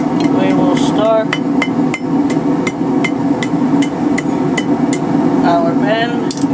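A hammer strikes hot steel on an anvil while forging a twisted J hook, a fast run of sharp ringing blows at a steady rhythm, close and loud over a constant low hum, with a voice briefly audible underneath.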